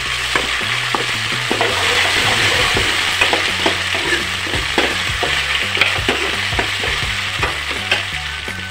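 Onion and ginger-garlic paste fry with cumin seeds in a hot pan, giving a loud, steady sizzle with scattered pops and crackles, plus repeated stirring scrapes and a low rhythmic tapping underneath.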